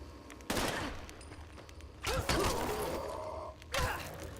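Gunfire in Fallout 76 fired at a missile-launcher-wielding enemy, three separate bursts of shots ringing out over a steady low game ambience.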